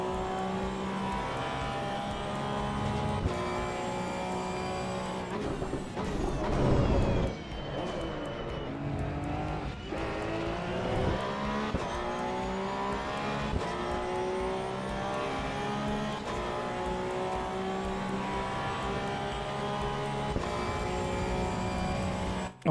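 A KTM GT4 race car in Assetto Corsa EVO, lapping Kyalami, gives a steady, loud engine drone with rising and falling revs through gear changes and a brief burst of roar in the middle.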